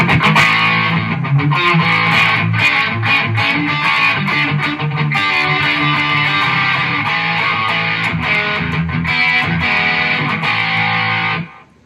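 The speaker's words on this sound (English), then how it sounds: "if I gain stack it, say with another overdrive pedal like the BB preamp right here, it doesn't feedback or anything" Kramer VT-211S electric guitar gain-stacked with a BB preamp overdrive pedal, playing a continuous distorted riff of chords and notes for several seconds before stopping abruptly.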